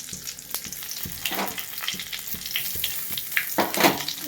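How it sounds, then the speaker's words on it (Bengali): Cumin seeds, dried red chillies and bay leaves crackle and sizzle in hot oil as a tempering for a Bengali prawn curry with elephant foot yam, with sharp spitting pops over a steady frying hiss, close and clear, no talking. "তেলটা আমার গরম হয়ে গেছে, এবার ফোড়নগুলো দিয়ে দেবো। জিরে, শুকনো লঙ্কা, তেজপাতা"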